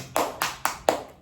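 Four sharp hand claps in an even, moderately quick rhythm, fairly close and clear with no talking.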